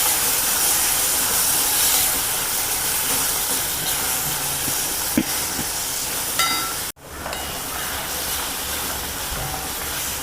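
Marinated watermelon rind cubes sauteing in a hot pan with oil and hing, a continuous hissing sizzle with occasional faint stir clicks, cut off briefly before resuming.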